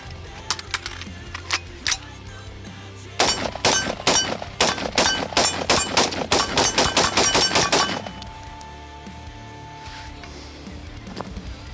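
Rapid gunshots from a Daniel Defense DDM4V7 rifle fired at a target, a fast string of about six loud sharp cracks in close succession, preceded by a few scattered shots and followed by quieter handling noise.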